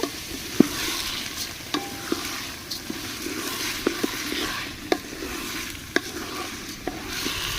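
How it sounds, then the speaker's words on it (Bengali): Rice frying with onions in a hot pan for khichuri, with a steady frying hiss, punctuated by sharp scraping clicks of a spoon stirring at irregular intervals. "এখন আমি চালটা পেঁয়াজের সঙ্গে একটু কষিয়ে নেব"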